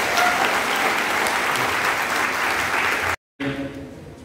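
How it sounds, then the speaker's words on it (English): An audience at a youth convention breaks into loud, dense applause that continues steadily, cuts out abruptly for a moment, then resumes more quietly. "Clap for them, please."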